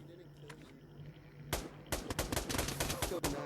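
Pistol shots in the VR shooter game Pavlov, a quiet lone crack followed by a rapid, uneven volley of sharp, loud reports, some overlapping, over low background hum.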